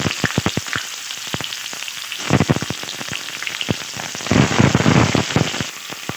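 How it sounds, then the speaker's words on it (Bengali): Eggplant pieces fry in hot oil close up, a dense crackling sizzle with sharp spitting pops, swelling louder as more pieces hit the pan. "ওই তেলে বেগুনগুলোকে আমি ভেজে নেব"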